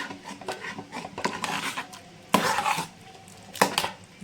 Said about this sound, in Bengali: এবারে আদা আর কাঁচা লঙ্কা বাটাটা ভালো করে এবারে নাড়াই